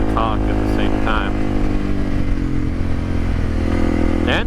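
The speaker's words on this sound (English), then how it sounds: "I'll just let the raw exhaust audio come through" Loud dual sport motorcycle exhaust drones steadily while riding a dirt road near Florence, Arizona, a constant engine roar with rumbling low tones and no voices.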